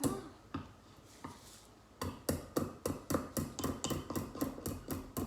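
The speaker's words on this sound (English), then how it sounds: "Just hammer him back from the other side." Nails are hammered into a board for a children's string art craft. A few spaced taps come first, then a quick run of about a dozen sharp, evenly paced knocks close by.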